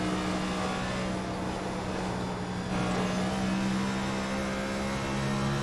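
A NASCAR Next Gen car in the iRacing simulator at Dover International Speedway, heard from onboard as a loud, continuous engine drone holding a steady pitch with slight shifts in revs.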